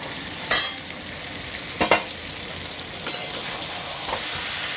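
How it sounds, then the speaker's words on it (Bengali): Duck eggs and potatoes sizzle while being sautéed in a pan, a steady frying hiss broken by a few sharp scraping stirs and clinks, with no one talking. "ডিম কষাচ্ছি"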